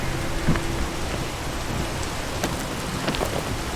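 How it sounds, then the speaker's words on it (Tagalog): Steady rain falls on a shoreline in the video game Peak, a continuous hiss of drops with faint scattered patters and no talking. "It's raining."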